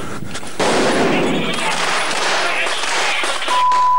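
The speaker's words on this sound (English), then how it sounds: "The stun grenades and the gunfire are supposed to disorientate the enemy." Stun grenades and gunfire go off during a military training exercise, a dense, loud barrage of bangs and crackling bursts lasting several seconds, with shouting voices mixed into the din.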